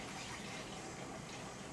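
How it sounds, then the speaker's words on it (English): Boiling water poured onto a gelatin dessert mix, a steady, faint, continuous rushing pour of liquid lasting under two seconds with no talking. "Then add your boiling water."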